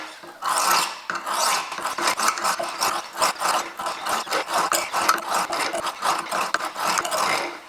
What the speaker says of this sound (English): So now let's break off that burr.